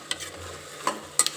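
Tomatoes frying with onions, bay leaf and cardamom are stirred in a pan, a soft sizzle beneath a few brief spoon scrapes and taps, close and quiet.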